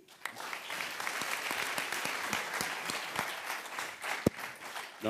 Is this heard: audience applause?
yes